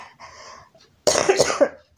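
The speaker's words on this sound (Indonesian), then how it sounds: "Lagi batuk pemirsa, mohon maaf." A few harsh, close coughs in a quick cluster follow a stretch of quieter, muffled sound.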